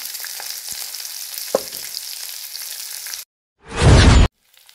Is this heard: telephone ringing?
no